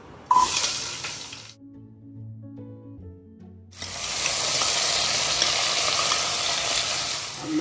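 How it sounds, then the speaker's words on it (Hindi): Pumpkin (kashiphal) tipped into hot oil with frying cumin, fenugreek seeds and whole red chillies, a loud sizzle that breaks off into a brief pause of low mechanical whirring, then a strong, steady sizzle resumes close up. "अब हम डालेंगे इसके अंदर काशीफल।"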